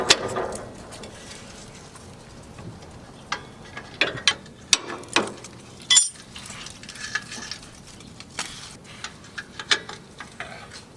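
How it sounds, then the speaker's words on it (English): A hand ratchet clicks in short, sharp bursts while nuts are backed off a trailer axle, with metallic clinks and taps mixed in at close range. "Now we're going to start taking the nuts off on the back side."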